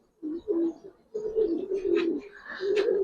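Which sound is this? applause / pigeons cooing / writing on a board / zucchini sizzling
pigeons cooing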